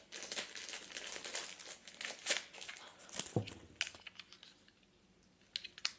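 Crinkling plastic packaging of a small gift being opened by hand, with close, irregular bursts of crackling and rustling, dense at first and thinning out toward a quieter end.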